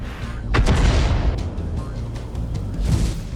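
Heavy tank or artillery guns boom in a tank battle game set in a ruined city, several deep blasts with rumbling tails spread across the moment, loud and close.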